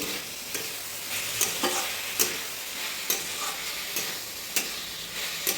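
Banana flower curry with potatoes and spices stir-fried in a pan, with a steady close sizzle and a spatula scraping and clacking against the pan every second or so, and no voices.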